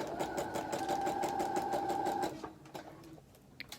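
A sewing machine runs steadily, stitching faux fur leg warmer lining with a close, fast mechanical whir for about two seconds, then stops, leaving a few soft clicks and handling sounds.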